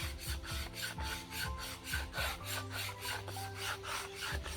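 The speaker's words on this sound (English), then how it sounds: "scrape down and scrape up, and you get two little clumps of it eventually" Bamboo scraped by hand to raise fine shavings for a bamboo fire saw: a steady, close rasping rub that repeats in quick back-and-forth strokes with no talking.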